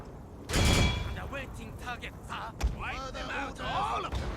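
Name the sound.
musket gunfire from the video game Total War: Fall of the Samurai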